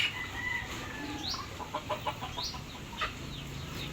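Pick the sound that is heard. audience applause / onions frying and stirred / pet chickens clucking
pet chickens clucking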